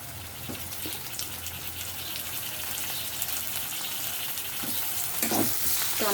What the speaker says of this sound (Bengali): এটা একটু ভেজে নিচ্ছি।